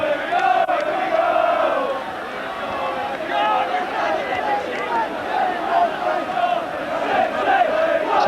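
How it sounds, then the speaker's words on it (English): A Bloomfield Road football crowd roars and cheers at a Blackpool goal against York City, a dense, sustained wash of massed voices that stays loud throughout, with swelling shouts rising above the din. "To the delight of the Bloomfield Road crowd."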